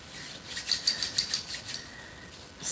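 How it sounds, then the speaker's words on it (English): Skin cream is rubbed into skin with about half a dozen quick, soft, rhythmic rubbing strokes, heard close up and quiet, with no talking. "So just rub it in."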